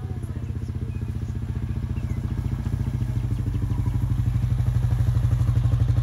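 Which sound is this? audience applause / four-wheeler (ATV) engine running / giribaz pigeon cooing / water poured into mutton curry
four-wheeler (ATV) engine running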